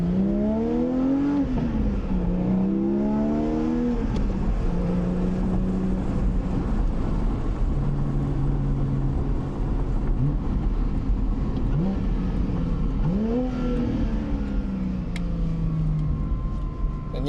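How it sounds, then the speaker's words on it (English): A Porsche 718 GTS 4.0 engine revs up and down in repeated sweeps as the driver downshifts to first gear, the rising and falling pitch loud and close throughout without talk. "I do like to downshift to first gear like that, just because the gearing on these cars are extremely long"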